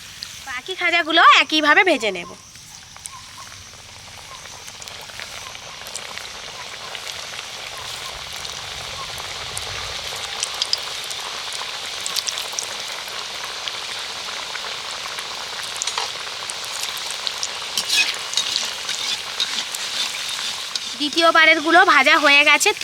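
Khaja pastries deep-fry in hot oil until crisp, giving a steady, rain-like bubbling hiss with fine crackles. A voice talks briefly at the start and again near the end.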